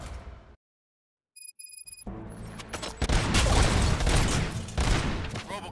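Sustained heavy gunfire erupts in the video game RoboCop Rogue City, loud and dense after a silent gap and a few electronic beeps, rolling continuously to the end.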